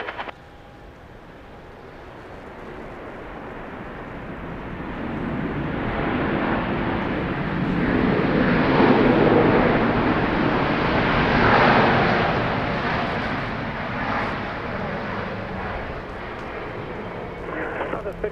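Southwest airliner landing on runway 13 right at Dallas Love Field, a broad jet roar swelling as it passes close then easing off, with voices talking throughout.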